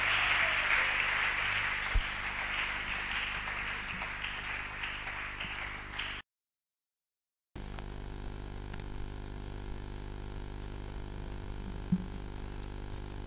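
A congregation applauding at a Bible convention gives about six seconds of dense, steady clapping. It cuts off abruptly and is followed by quieter room tone with a low mains hum.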